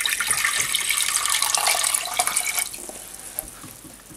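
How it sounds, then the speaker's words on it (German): Tap water runs loudly into a cooking pot, 250 ml for a pickling brine used to make fried herring-style roach, with a steady splashing rush that thins and tapers off near the end. "In dem füllen wir erstmal 250 ml Wasser."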